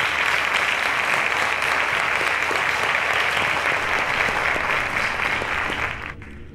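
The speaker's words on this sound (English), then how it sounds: "round of applause to them" Studio audience at a televised quiz competition gives contestants a sustained round of applause, loud dense clapping holding steady before tapering off abruptly near the end.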